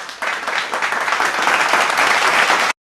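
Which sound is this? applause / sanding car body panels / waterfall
applause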